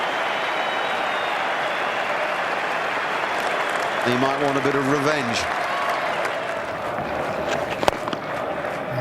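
A cricket crowd at Adelaide cheers and applauds steadily as Adam Gilchrist reaches his fifty in the 2006/07 Ashes second Test, with a commentator talking over the sustained clapping.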